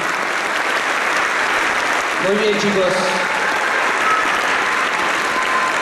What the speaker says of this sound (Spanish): Fuerte el aplauso para los chicos de cuarto año.